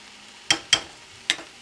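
A spoon stirs fettuccine in a pan for a seafood dish, giving three short, close scraping strokes with quiet gaps between them.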